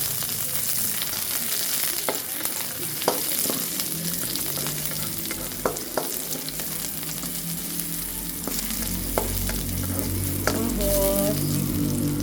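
Garlic fries in oil for a sweet and sour fish dish, making a constant sizzling hiss with intermittent spatula taps and scrapes, and the crackle grows louder and deeper near the end.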